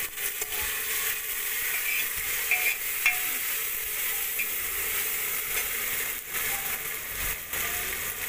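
Freshly cut tomatoes sizzling in a hot tadka for dal, a steady dense frying hiss with faint stirring clicks throughout, close and continuous, no talking.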